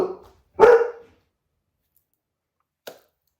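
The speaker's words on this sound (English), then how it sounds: "I don't know why Dolly's barking" A dog barks twice close by, a short yelp followed by a louder bark, then a faint single woof after a pause of quiet.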